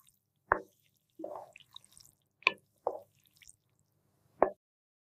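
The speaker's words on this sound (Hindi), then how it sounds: "अब इसमें चाट मसाला, नमक और लीमू का रस डालेंगे। अब इसे अच्छी तरह मिक्स करेंगे।" Chana chaat mixed by hand with chaat masala, salt and lemon juice in a village kitchen, a handful of separate soft wet squishes and plops spaced over a few seconds, close and quiet with no speech.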